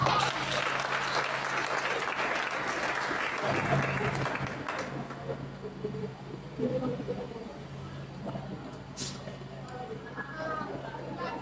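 Clapping from a crowd at a Pentecostal church anniversary service fills the first few seconds, then fades as a voice carries on speaking over a quiet room.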